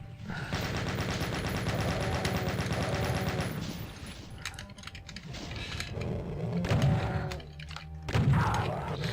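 Gunfire from the video game Doom, including the shotgun and super shotgun, comes as rapid loud blasts with clattering game effects, broken into several separate bursts with short lulls between them.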